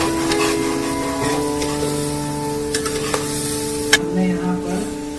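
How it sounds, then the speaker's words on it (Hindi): Onions frying in oil in a pan toward golden brown, a steady close sizzle with faint clinks and light stirring, with no voice. "अब इस प्याज को हमें गोल्डन ब्राउन होने तक भूनना है"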